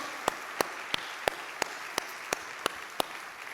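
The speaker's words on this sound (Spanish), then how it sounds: "Dale un fuerte aplauso a Él. Este aplauso es para ti, Señor." Sparse, evenly spaced claps from a church congregation, about ten sharp hand claps in a slow steady rhythm over a soft background hiss.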